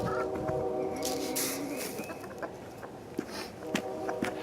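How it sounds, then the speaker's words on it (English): Chickens in a homestead coop cluck and murmur at close range, short scattered calls over a steady farmyard background with occasional sharper bird notes. "There's the chickens."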